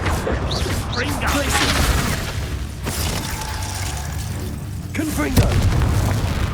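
Explosions from the Confringo blasting spell burst in a Hogwarts Legacy fight against poachers, several deep booms with rumbling debris mixed with game effects and a voice talking over them.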